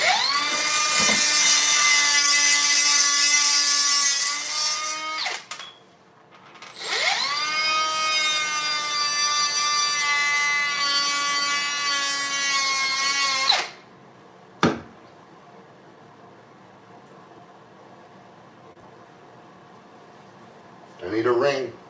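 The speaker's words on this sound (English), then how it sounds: "I need to cut this off now. Where's that grinder?" A grinder cuts off PEX plumbing in two long, loud, high whining bursts, each several seconds long, with a short pause between them and brief clunks and a quieter stretch afterward.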